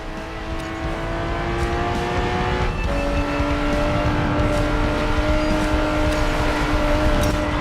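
Lamborghini Diablo in the mobile racing game Racing Master, its engine holding a loud, steady high-revving drone with a brief gear-shift dip partway through, continuous and close with no talk over it.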